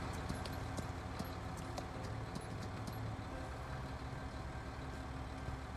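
Hooves clop steadily while riding a horse in the Farming Simulator 2019 video game, a faint rhythmic patter over a constant low engine-like hum.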